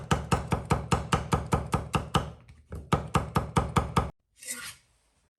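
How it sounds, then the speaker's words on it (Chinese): A kitchen knife slices carrots into thin strips on a cutting board, giving a rapid, even run of close, crisp chopping knocks that pauses briefly, resumes, then stops with a short rustle after it. "胡萝卜切成薄片，再改刀成细丝"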